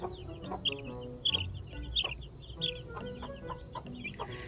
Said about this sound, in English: They're going nuts right now, just trying to get back to mama hen, and Vulture is definitely not happy with me